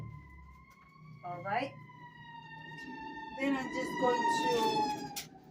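An emergency vehicle siren wails outside an open window, rising and falling in repeated sweeps with a horn-like blare, fairly distant but clear, while someone speaks briefly indoors during kitchen baking.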